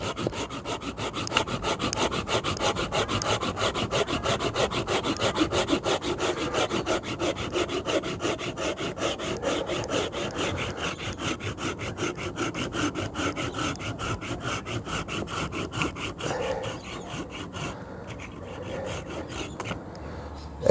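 Rapid back-and-forth rasping strokes come from a Bahco 396-LAP Laplander folding pruning saw working through wood indoors. They run close and continuous for about twenty seconds before slowing near the end.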